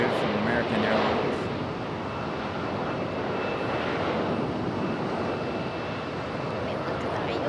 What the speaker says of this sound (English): Got that E-175 on the move from American Airlines.